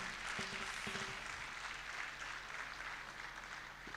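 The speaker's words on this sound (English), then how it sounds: "Please a round of applause for him." Faint, steady applause from an audience at a dental school alumni homecoming and fundraising event, a continuous wash of clapping lasting the whole stretch with no voices over it.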